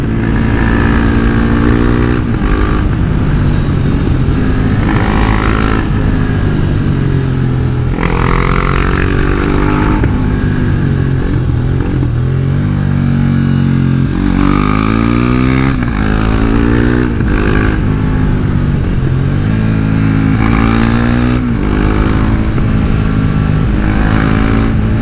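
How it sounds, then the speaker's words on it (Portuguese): Motorcycle ridden up a rocky mountain road, its engine loud and close throughout, revving and shifting through gears with repeated rises and falls in pitch. "Será que essa moto é divertida, filho? Ah, nasceu pra serra."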